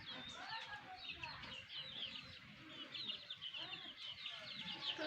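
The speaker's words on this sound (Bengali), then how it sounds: "এই যে মুরগির বাচ্চা যা কৈতরে তুলছে" Chickens, including a young chick raised among pigeons, cluck and peep continuously in a busy, close chorus of high chirps over a low farmyard murmur.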